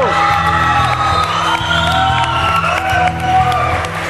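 An audience at a televised singing gala gives an ovation, with loud, sustained crowd cheering, whoops and shouts and some clapping throughout, while music plays underneath.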